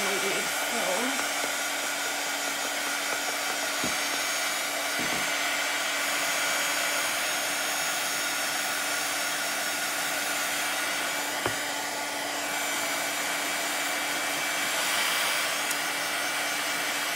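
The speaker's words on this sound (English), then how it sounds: "I'm gonna run the dryer on it again real quick" A hair dryer blows steadily and loudly to dry paint on a handmade gnome door hanger, its whirring roar continuous from start to finish with only faint brief clicks beneath.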